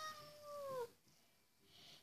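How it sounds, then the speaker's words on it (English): Pet cat meowing: a single drawn-out, falling meow from close by, then a quiet pause and a faint trailing breathy sound. "Some of you may call her the baby, some of you may call her the cat"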